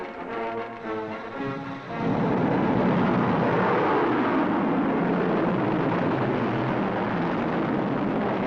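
A Polaris ballistic missile roars off at launch, a sustained broad rushing thunder that swells in after a rumbling low start and holds loud and dense, heard as newsreel footage from an Atlantic test range.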